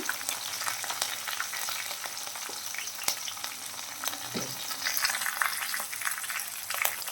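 Green chillies, curry leaves and turmeric frying in hot oil for poha, a dense, steady crackling sizzle close up with sharp pops scattered throughout and faint stirring underneath.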